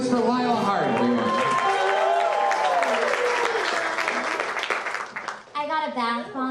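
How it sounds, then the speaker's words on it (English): A live comedy show audience at a stand-up roast event breaks into loud, sustained applause and cheering, with shouts and whoops mixed in before the clapping thins out toward the end. "Make some noise for Lila Hart, everyone"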